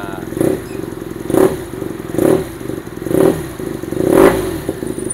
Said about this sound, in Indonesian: Jadi boxer tuh suaranya dia padat bawahnya, tapi dia nggak ngerev kayak 4 silinder.